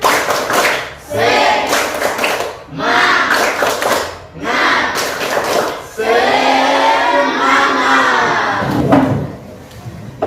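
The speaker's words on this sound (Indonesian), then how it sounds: "Tepuk semangat." Children perform the tepuk semangat clapping chant, bursts of shouted group chanting broken by pauses and sharp clap patterns, loud and close, with a long sustained chorus near the end.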